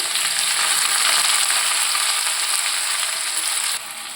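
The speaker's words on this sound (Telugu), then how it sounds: "ఆయిల్ కాస్త హీట్ ఎక్కాక ఈ ఆనియన్స్ని ఇలా" Onions frying in hot oil while cooking chicken biryani give a steady, loud, bright sizzle that holds throughout and then drops in level near the end, with no voices.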